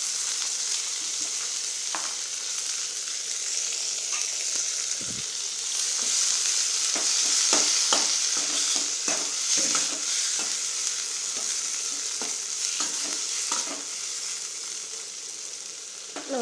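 Green chilli, onion, tomato, curry leaves and coriander leaves sautéing in a pan, with a steady bright sizzle throughout and frequent spatula scrapes and knocks, close and fairly loud with no talk.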